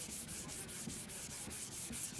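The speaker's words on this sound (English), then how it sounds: "Okay, so I got it all wet sanded." Wet sanding of the freshly painted trunk on a Mercedes W124 300E, a steady close-up rubbing rasp with regular back-and-forth strokes, heard alone.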